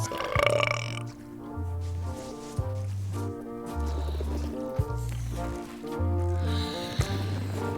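A cartoon pirate game character burps after eating a blowfish. One loud belch comes early, followed by a steady music track with its rhythmic low bass notes.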